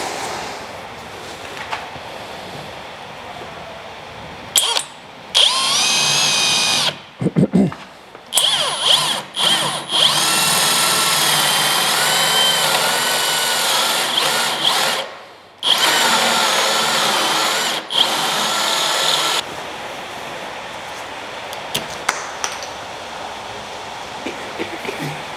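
A power drill drilling into wood whines loudly in repeated bursts, stopping and restarting several times, with quiet pauses of background noise between runs.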